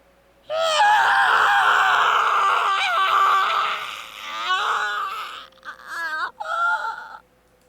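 A person screams in agony with a sustained, loud, strained cry that wavers in pitch, then breaks into several shorter anguished wails and gasps near the end, close and alone.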